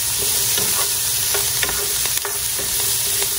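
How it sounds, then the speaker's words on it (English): Onions sizzle steadily in a hot pan as a utensil stirs them, with scraping strokes over continuous loud frying, close up and without speech, while cooking for Salisbury steak. "I'm going to stir those beautiful onions around"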